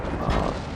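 A tank cannon fires in World of Tanks, a single heavy booming shot against an IS-3 turret, loud and close, lasting under a second over continuous battle rumble.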